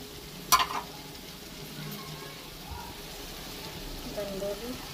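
Red and yellow bell peppers, peas and carrots hit a hot frying pan with a brief loud clatter and hiss, then a soft steady sizzle with faint stirring scrapes as someone talks over it.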